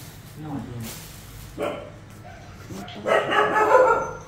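A dog barks a few times close by, short sharp yaps with some whimpering, mixed with people talking in the background and other household noise.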